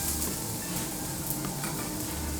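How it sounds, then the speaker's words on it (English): Shallots fry in hot oil in a pan for fried rice, a dense, continuous close sizzle with faint stirring, steady and loud with no talking. "We're going to start with our shallots, throw our shallots in there for a minute."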